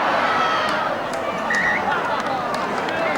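Crowd at a 1982 rugby league match between Wests and Cronulla applauds and murmurs steadily after a failed attacking kick, a dense, continuous spread of clapping and cheering at moderate distance.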